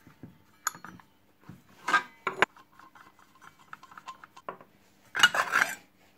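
Metal clinks and knocks as a 12-tooth circular saw blade for cutting solid wood is handled and mounted on a saw, scattered sharp taps and rattles with quiet gaps, no talk.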